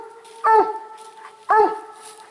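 A coonhound gives two loud, drawn-out bawling barks about a second apart outdoors, close by, with a faint background hum and no talking.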